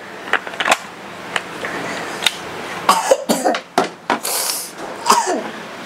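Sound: cough

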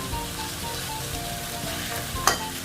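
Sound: eggplant stir-fried with Thai basil, frying in a pan

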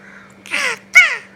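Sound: child imitating a crow's caw

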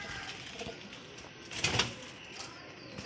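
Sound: pigeons cooing

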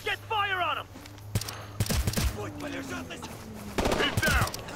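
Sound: gunfire in video game Ghost Recon Future Soldier

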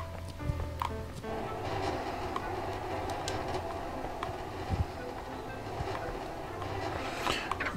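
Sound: train passing in video game Human Fall Flat

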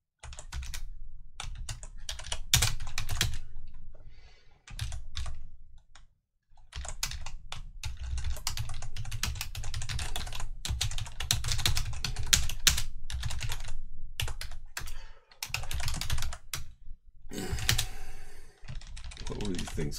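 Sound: typing on a computer keyboard while programming

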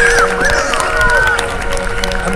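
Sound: street performance crowd clapping and cheering

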